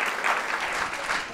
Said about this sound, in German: der verdiente Applaus